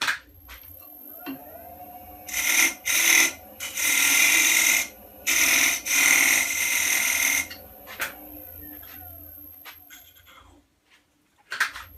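Wood lathe spinning while a tool cuts down the tenon on a turned wooden box, several loud scraping bursts of cutting between quieter stretches of the spinning workpiece.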